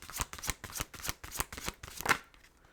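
Tarot cards being shuffled for a reading, a rapid run of crisp riffling flutters in a steady rhythm, close and fairly loud, with no voices.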